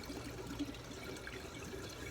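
Two aquaponics pumps push water up through tubes and let it dump back down, making a faint, steady trickle and splash that runs continuously.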